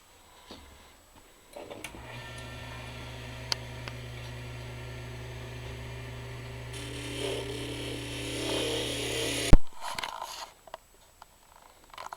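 A wood lathe spins a wooden dulcimer noter, giving a steady motor hum with tonal whine. A cutting tool bites in partway through, adding brighter scraping noise before the lathe stops abruptly and coasts quiet.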